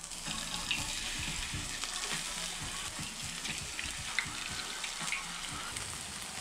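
Plantain chips fry in hot oil in a pan, giving a steady, fairly quiet crackling sizzle with scattered pops throughout.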